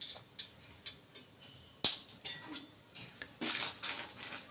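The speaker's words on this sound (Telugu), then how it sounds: "ఎండుమిరపకాయలు, పల్లీలు, శనగపప్పు అయితే వేస్తున్నాను" Dry red chillies, peanuts and chana dal dropped into a hot pan give a sharp clatter and rattle, followed by scattered clinks and a rising sizzle as they settle.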